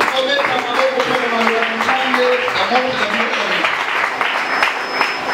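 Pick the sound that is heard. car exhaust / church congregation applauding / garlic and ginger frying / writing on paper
church congregation applauding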